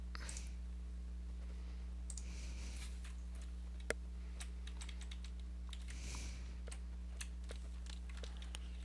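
Computer keyboard typing, with bursts of quick, light key clicks and a few isolated taps heard close over a steady low electrical hum.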